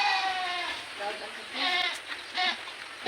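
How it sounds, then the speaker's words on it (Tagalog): Several goats bleat in wavering, repeated cries on a rural property as rain approaches, fairly close and loud, with a voice talking faintly in the background. "Talagang takot sila sa ulan. Yan. Nakaingay yung mga kambing."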